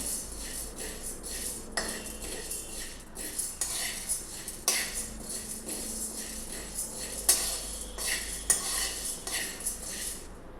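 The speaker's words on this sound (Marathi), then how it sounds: "साबणाने त्यांना परतवून घ्यायचं आहे भाजून घ्यायचं" A spoon stirring and roasting ingredients in a metal pan, producing close clattering scrapes and clinks at an uneven pace over a faint background hiss, no speech.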